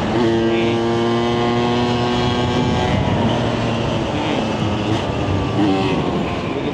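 A 1976 Vespa Special 90 scooter engine labors uphill, a loud, close, steady droning whine with a harmonic hum under wind noise, continuous throughout.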